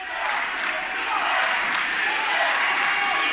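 A crowd in a gym at a men's college basketball game, Penn State Altoona versus Hilbert, builds into sustained cheering and noise during the final seconds, a steady wash of voices with no single sound standing out.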